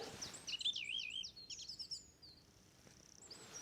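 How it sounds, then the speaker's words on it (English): A song thrush sings outdoors in a string of quick, high, warbling and whistled phrases, fairly faint against a quiet background, then trails off into softer, thinner notes. "That's a very loud song thrush."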